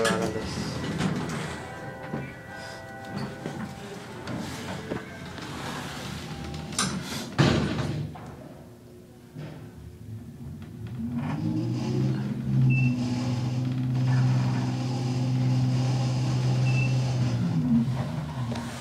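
A.C.E traction elevator motors in a former basement at Burlington Coat Factory in Union Square: early clunks and thuds, then a steady, fairly loud low mechanical hum with a droning whine that holds through the second half.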